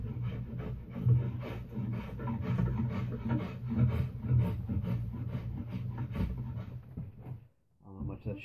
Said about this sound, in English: So I return to rasping and scraping pretty quickly once it starts lifting and peeling too much